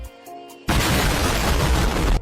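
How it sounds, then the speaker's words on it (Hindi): A cartoon-style firecracker blast goes off inside a helmet, a sudden loud burst that cuts in after a quiet musical moment and sustains as a dense crackling roar for over a second. "लेकिन हेलमेट में ही पटाखा था।"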